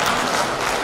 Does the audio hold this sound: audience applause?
yes